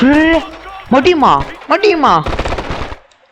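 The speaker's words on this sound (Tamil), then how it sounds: "அவன் எங்கிட்ட சுட்டான்." Rapid bursts of gunfire from the Ghost Recon Future Soldier video game, loud and clustered near the end of the clip, following a stretch of someone talking over the game.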